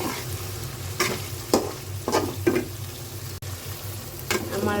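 Bottle gourd cooking in a pan at home, with a steady close sizzle broken by several sharp stirring scrapes spaced about a second apart.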